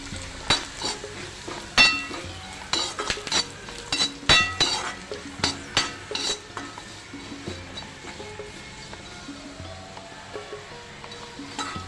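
Curry leaves and crushed peanut powder frying in a pan for sabudana khichdi, with irregular clinks and stirring scrapes of a utensil against the pan over a soft steady sizzle, close and moderately loud, no talking.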